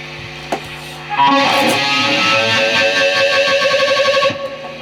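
Distorted electric guitar plays a short lick after a few plucked notes, with a wavering, pulsing vibrato on the sustained tones.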